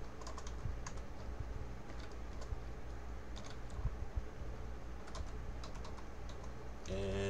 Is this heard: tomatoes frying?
no